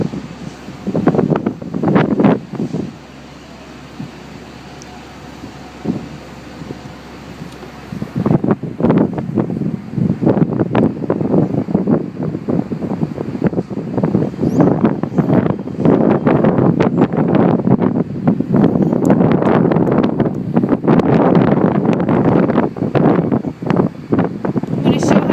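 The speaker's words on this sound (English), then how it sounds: "As you can see, it's a pretty windy day." Strong wind buffets the microphone on a seventh-floor rooftop garden, a loud, rumbling gusty roar that eases briefly before returning harder and more constant, with occasional voices underneath.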